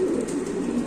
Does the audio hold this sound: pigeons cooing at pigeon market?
yes